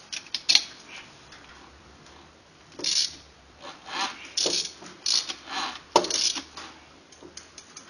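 A socket wrench turns a Chinese bike engine over by hand to move the valves, giving sparse metallic clicks, ratcheting and rubbing scrapes in short close bursts between quiet gaps.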